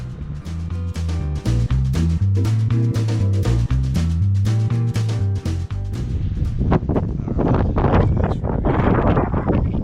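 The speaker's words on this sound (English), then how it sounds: "The wind is blowing a hoolie." Strong wind buffets the microphone in heavy, continuous low rumbling gusts, loud and close, with no voices.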